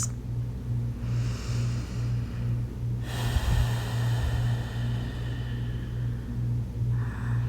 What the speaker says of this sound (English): Let's take a few more deep, long breaths.